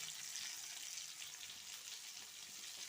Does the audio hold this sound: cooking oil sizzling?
yes